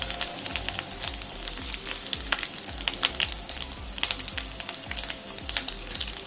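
Chopped onion goes into hot oil already frying garlic and chili for a Koli-style karandi (small shrimp) fry, giving a loud, steady sizzle and crackle throughout with stirring scrapes and no talk.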